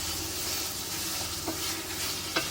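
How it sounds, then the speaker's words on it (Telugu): Marinated chicken is stirred into frying ginger garlic paste for a village-style chinta chiguru chicken curry, with a loud steady sizzle and a couple of soft scraping stirs. "మనం మ్యారినేట్ చేసుకున్న చికెన్ ని వేసి ఇంకొకసారి బాగా కలుపుకోండి."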